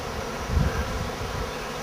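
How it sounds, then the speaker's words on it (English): A swarm of thousands of bees buzzing around the top of a tree at a hunting camp, a steady low drone that swells slightly midway and holds at moderate volume. "flying around, swarming all in top of this tree."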